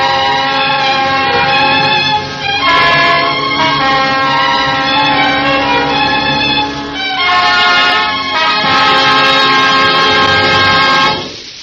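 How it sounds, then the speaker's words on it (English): A foghorn sound effect from an old radio drama: deep, loud, sustained horn blasts in two long swells with a short gap between them, heard alone. "Don't wonder that you hate the sound of foghorns, Letty Taylor."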